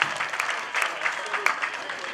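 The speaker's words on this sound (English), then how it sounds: "A big round of applause for that matter." An audience applauding female prison inmates graduating in tailoring at a ceremony in Banjul, a moderate, uneven patter of clapping from a small crowd with voices mixed in.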